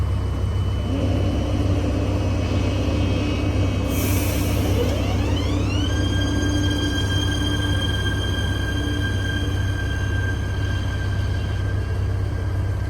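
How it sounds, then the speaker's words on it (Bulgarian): Passenger train pulling out of Dimitrovgrad station in Bulgaria, a steady loud rumble of engine and wheels with a rising whine as it accelerates, a brief hiss of air near the start, continuing throughout without speech. "Сега тръгва пътника."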